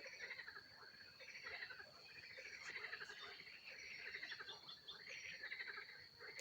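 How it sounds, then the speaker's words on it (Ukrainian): Frogs croak at a pond in the evening, a dense chorus of faint, repeated calls overlapping continuously at a distance, heard alone with no talking. "Жаби квакають"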